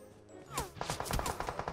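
Rapid gunfire in the mobile shooter PUBG Mobile, a quick burst of close, cracking shots in a tight rhythm lasting about a second.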